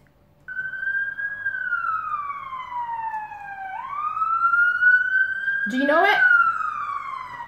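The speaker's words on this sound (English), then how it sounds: "It's an ambulance." A wailing emergency siren sweeps up and down in long pitch glides, loud and close, with a brief spoken question near the end.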